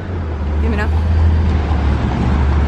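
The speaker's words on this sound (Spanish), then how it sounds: "Ahorita vienen carros de allá" Cars passing on an Australian city street, a steady low traffic rumble with a vehicle swelling past, mixed with background voices.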